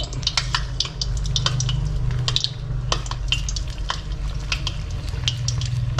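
Tofu skin rolls stuffed with pork fry gently in low-temperature oil, producing a soft continuous sizzle with frequent light utensil taps and stirring clicks close by, no voices.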